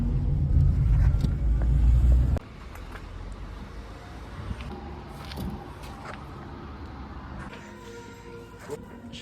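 Steady car engine rumble and road noise from inside a vehicle, loud at first, then dropping to a lower, continuous drone with faint knocks.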